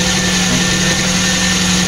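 A vehicle engine runs after a drive belt replacement, making a loud, steady, close roar with no break in the brief stretch.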